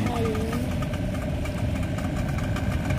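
Vehicle engine idling to warm up, a steady low rumble with a slightly uneven, knocking pulse, close and continuous throughout.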